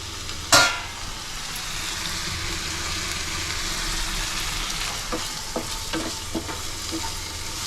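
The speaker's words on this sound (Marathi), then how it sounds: "इथे आपला कांदा फ्राय होतोय." Chopped onion frying in a hot pan for gravy, a steady close hiss and sizzle throughout, with a sharp clatter of stirring at the start and a few light scrapes near the end.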